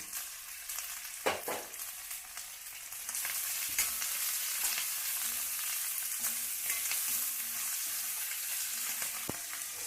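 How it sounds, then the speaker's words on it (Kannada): Capsicum and green chillies frying in oil for capsicum rice bath, a steady broadband sizzle that grows louder after a few seconds, with occasional stirring clicks and scrapes in the pan. "ಸ್ವಲ್ಪ ರೋಸ್ಟ್ ಆಗಲಿ ಈ ಥರ ಹುರ್ಕೊಳ್ಳೋಣ ಎಣ್ಣೆ ಒಳಗೆ ಚೆನ್ನಾಗಿ ಬರುತ್ತೆ"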